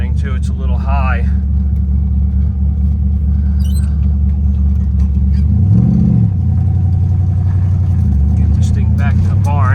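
A 1968 Camaro with a 327 engine idles high with a steady, close, loud rumble and a brief rev around the middle, while someone talks over it.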